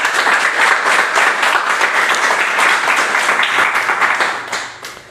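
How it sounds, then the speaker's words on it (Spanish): A church congregation applauds steadily for several seconds, dense clapping that is loud and close, fading out at the end. "Demos un aplauso al Señor."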